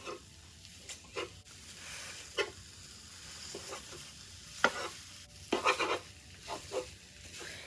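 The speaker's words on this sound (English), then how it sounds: "we're going to let the sausage cook until it's brown" Sausage browning in a pan gives a soft, quiet sizzle under intermittent scrapes and clacks of a utensil stirring, with a few sharper bursts toward the end.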